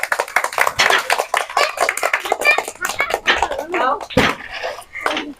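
Children clapping their hands during a water balloon-bursting game, with sharp bursts of claps mixed with lively chatter and shouting voices throughout.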